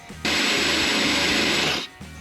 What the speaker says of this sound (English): I think this drill bit's had it.